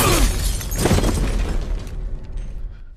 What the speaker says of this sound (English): He violently smashes the whiskey bottle in the robber's face